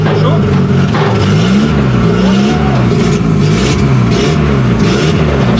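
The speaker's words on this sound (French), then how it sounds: "Vas-y, fais un launch à froid" A car revs hard for a cold launch start, its engine rising and falling in repeated loud pulls throughout, with background noise and people present.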